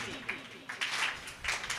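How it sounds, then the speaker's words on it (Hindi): Scattered applause from a Hindi poetry gathering audience, starting in small bursts that swell into louder clapping near the end, heard alongside a faint voice early on. "इस पंक्ति पे आपकी तालियों की ध्वनि बढ़नी चाहिए"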